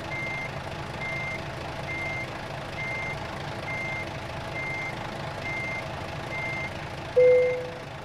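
A truck's reversing alarm in American Truck Simulator beeps at an even pace, about nine times, over a low engine hum, followed by a brief sharper tone near the end.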